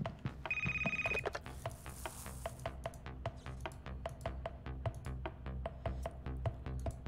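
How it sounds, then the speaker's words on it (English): A telephone rings once briefly in the horror game Knock Harder, followed by a steady run of sharp rhythmic taps or knocks that continue close and clear to the end. "I hear the phone, let's go check it."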